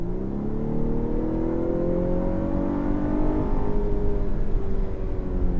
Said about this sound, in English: this engine note is piped in